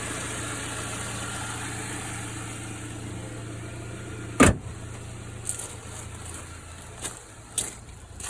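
A clean-running Saab 9-3 Aero engine idles in a steady, low, even hum, with a few sharp clicks and knocks breaking through the second half.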